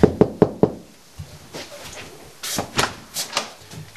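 Four sharp, evenly spaced knocks on a residential door during door-to-door canvassing, close and loud, followed by quieter shuffling and a few soft thumps.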